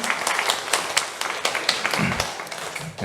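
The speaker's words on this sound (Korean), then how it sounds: "하나님께 감사의 박수를 올려드리겠습니다" Church congregation clapping in thanks during a Sunday worship service, a short burst of steady applause with sharp individual claps standing out, fairly close and moderately loud.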